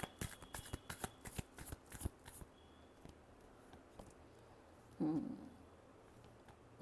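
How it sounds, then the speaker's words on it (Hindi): Tarot cards being shuffled by hand: a quick run of crisp riffling flutters over the first couple of seconds, then a quieter lull broken by one short thump-like handling sound. "Last shuffle."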